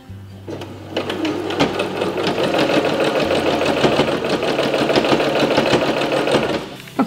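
A sewing machine runs steadily for about six seconds, turning and stitching the hem of an upcycled linen tea towel. The mechanical whir is close and loud, with a low hum underneath and a short pause near the start.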